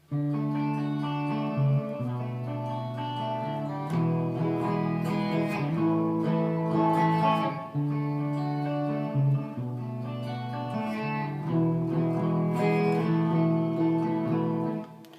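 Strummed guitar chords move through a progression with a slightly effected, reverberant tone, steady and full throughout with no voices.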